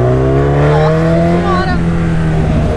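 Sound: Honda CB1000 2020 motorcycle accelerating

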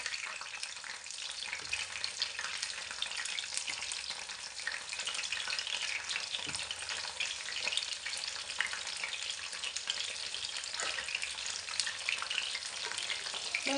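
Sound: baby corn frying in a pan

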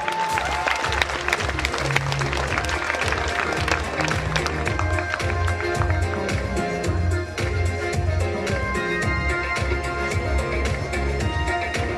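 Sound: audience applause at sports gala

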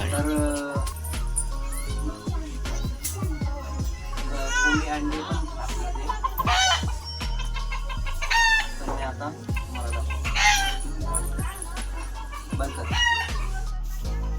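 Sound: hen clucking while set on eggs

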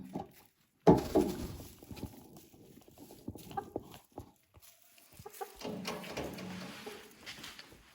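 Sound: chicken clucking

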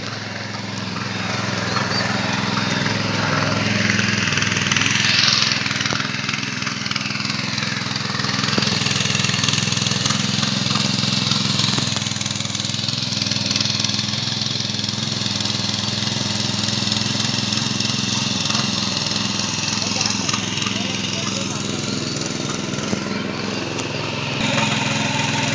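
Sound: tractor engine ploughing paddy field

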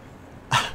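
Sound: dog

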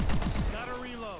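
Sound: weapon reload in video game Call of Duty Advanced Warfare

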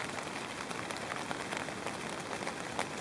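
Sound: rain falling on a tent at a summit camp

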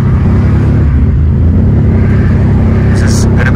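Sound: car engine with blown turbo

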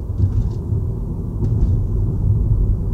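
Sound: Ford EcoSport 1L EcoBoost petrol engine heard inside car

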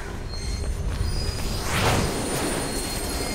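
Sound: train passing in tunnel, Mirror's Edge video game

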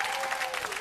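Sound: audience applause on game show

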